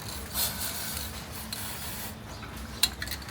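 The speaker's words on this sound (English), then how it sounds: "Now we are going to clean all the corners with parts cleaner so that the gasket can make a better seal." Parts cleaner sprays in a continuous hiss onto the corners of a BMW E90 N46 valve cover, close up, with a few faint clicks and a sharper tap near the end.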